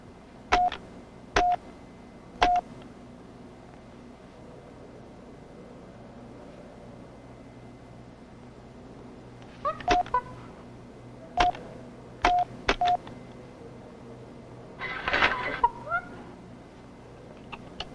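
A computer panel used for symbol-language exchanges with a chimpanzee emits short electronic beeps, single tones spaced a second or so apart, then a quick cluster, over a faint steady hum with a brief scuffle near the end.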